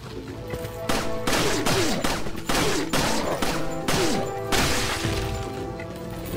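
Handgun gunfire in Resident Evil 4, a series of sharp separate shots spaced unevenly, each with a crack and short ring, loud and close amid game music.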